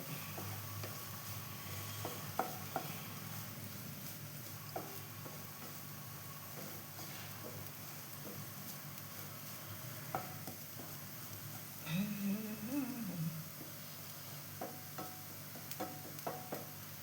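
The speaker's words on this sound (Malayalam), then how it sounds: "ഇതാ ഞാൻ തേങ്ങ ഇട്ട് കഴിഞ്ഞു എന്നിട്ടെല്ലാം കൂടി ഒന്ന് ഇളക്കുന്നുണ്ട്" Carrot upperi with grated coconut being stirred in a pan, a faint steady sizzle broken by soft scrapes and taps of the spoon, with a brief louder scraping burst partway through.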